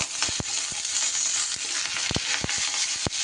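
Sesame seeds and curry leaves sizzle in a little oil, a steady bright hiss with occasional sharp pops and crackles throughout, close up and with no talking.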